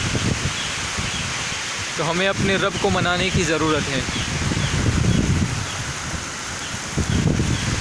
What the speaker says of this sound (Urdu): ابھی تو ہوا تھوڑی کم ہوئی ہے، لیکن اس سے پہلے تو بہت زیادہ ہوا چل رہی تھی